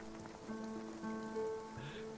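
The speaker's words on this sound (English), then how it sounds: "I love the sound and the look of rain." Steady rain falling in the video game Spiritfarer, a soft constant patter at low volume, layered with sustained tonal background music and no voices.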